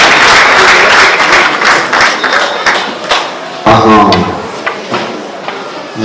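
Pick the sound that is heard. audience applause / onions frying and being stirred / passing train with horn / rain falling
audience applause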